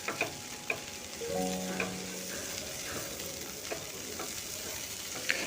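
Kakrol, spiny gourd, frying in a pan with a steady soft sizzle, while a utensil stirs it with occasional light scrapes and taps against the pan.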